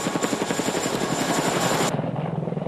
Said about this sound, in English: The CH-47 Chinook provides heavy lift capability and can even lift vehicles